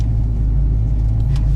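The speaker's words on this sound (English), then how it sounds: "just the torque of the engine makes the car move so much easier than it did when we had the 308s in it" A car fitted with 3.73 rear gears accelerates with a loud, close engine rumble, a steady low drone that holds through the moment without speech.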